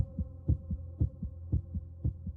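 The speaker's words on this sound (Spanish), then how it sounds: "interrumpido únicamente por los latidos frenéticos de mi propio corazón" A rapid, frantic heartbeat, low thudding double beats repeating at a quick steady pace, close and alone over a faint hum.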